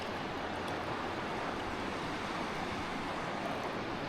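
Steady broadband rush of a strong river current, a continuous loud churning roar with no pauses and no voices, at a campsite.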